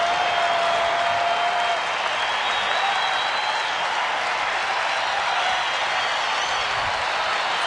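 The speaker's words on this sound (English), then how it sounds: "Crowd trying to get behind Minor here to get this final out of the 6th" A baseball stadium crowd cheering and applauding steadily during a Seattle at Detroit game, a broad continuous roar of clapping and voices at a distance with an announcer faintly beneath.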